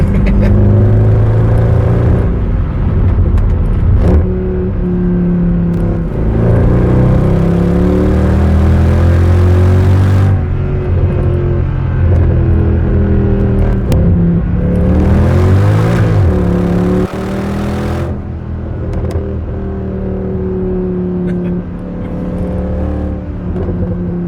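A Mercedes W204 C63 AMG engine revs hard and rises and falls through the gears, loud and close, with whining shifts and no talking.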